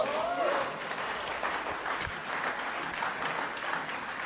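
Faint, steady applause from an audience at a sermon, continuous clapping with crowd noise and a brief voice at the start.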